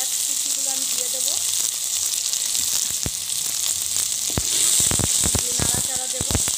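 Whole garam masala and dried red chillies sizzle loudly in hot oil in a pan for a Bengali chire muri ghanto, with a steady bright hiss and sharper crackles and spatters bursting toward the end, plus faint voice traces early on.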